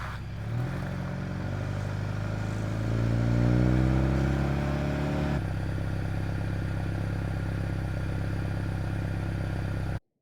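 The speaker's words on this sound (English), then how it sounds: "So you bought a Bronco, but you don't like the way it sounds." A Ford Bronco with its stock exhaust runs close by, revving up and rising in pitch, then settling back to a steady idle rumble; no one talks.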